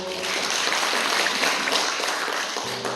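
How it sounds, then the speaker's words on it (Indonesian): Church congregation applauding during a Sunday worship service, a steady dense wash of clapping that carries on evenly for the whole stretch. "Tepuk tangan dulu."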